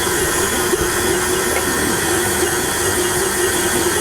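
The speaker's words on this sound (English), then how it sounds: "Sorry about the mixer noise" Electric stand mixer kneading homemade pizza dough, a loud steady motor whir with a high whine and faint rhythmic knocking, running continuously with no talk.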